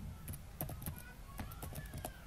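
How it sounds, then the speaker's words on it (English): Keys tapped on a keyboard while a web address is entered, a quiet run of light, irregular clicks spread across a couple of seconds with no voice. "in the web address bar, type in firstcitizens.com"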